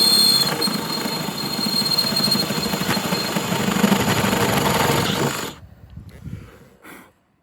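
Power drill boring holes through the metal roof of a Renault Master camper van for M10 riv nuts, a loud sustained whirring grind that cuts off near the end, followed by faint handling noises.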